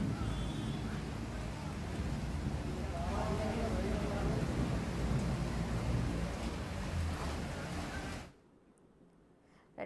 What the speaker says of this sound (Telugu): మధ్యాహ్నం 3 గంటలు దాటేసరికి ఒక్కసారిగా వర్షం కురవడంతో అంతా చల్లబడింది.